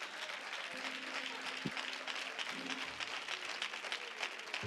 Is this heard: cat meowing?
no